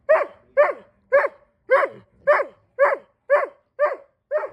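A bored, lonely dog barks over and over in a steady, evenly spaced rhythm, nine loud close barks with silence between them.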